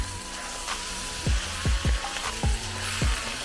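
Pork sisig sizzles steadily in a pan while eggs are stirred in, a handful of low scraping strokes from a utensil rising over the constant hiss.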